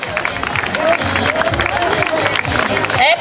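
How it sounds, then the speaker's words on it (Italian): An audience at an outdoor fashion show in Reana applauds in a dense, steady wash of clapping and crowd noise, with a voice talking over it. "un ultimo applauso a tutte queste ragazze e ragazzi"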